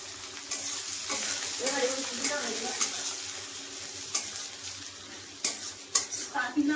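Chopped onion goes into hot oil with whole cinnamon, cloves, cardamom and bay leaf, a soft steady sizzle under clinks of a spoon against the pan, with sharper knocks and scrapes toward the end.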